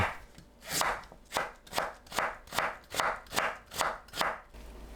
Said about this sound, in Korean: 무를 채 썰어 주세요.